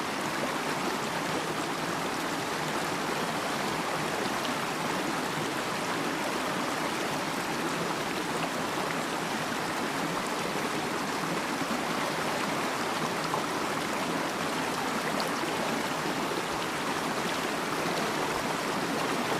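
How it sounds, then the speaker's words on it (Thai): Stream water rushing steadily near a waterfall in Nakhon Nayok, Thailand, a constant broadband gushing roar, fairly close and unchanging throughout, with no voices over it. "ต้องเดินฝ่าลำธารนะครับผม"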